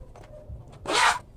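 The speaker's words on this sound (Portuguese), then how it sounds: "vou cortar parte dos dentinhos do meu zíper para passar o cursor" Zipper slider threaded onto a zipper tape, with teeth trimmed away, while sewing a cube toiletry bag: a couple of faint clicks, then one short, loud rasping zip near the mic.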